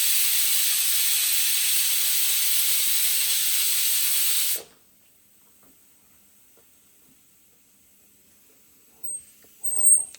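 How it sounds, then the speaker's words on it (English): Food cooking in a pan gives off a loud, steady hiss of steam for about four and a half seconds, then it cuts off abruptly into near silence, followed by a couple of faint clatters at the end. "Then we are going to steam it down and let it cook for another 2-3 minutes."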